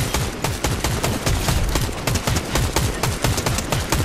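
Rapid automatic gunfire in the video game Fortnite, a loud, dense stream of close shots with constant rhythmic bursts and no pauses.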